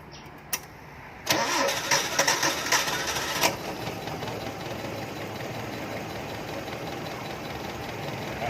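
A car engine on a weak, degraded battery cranks briefly after a couple of clicks, then catches and settles into a steady idle, heard up close.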